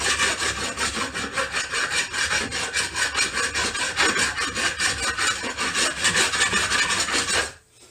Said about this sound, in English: I just use my file just to kind of smooth out any real rough spots